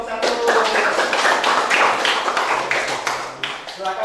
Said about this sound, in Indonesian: silakan tepuk tangan untuk kelompok 1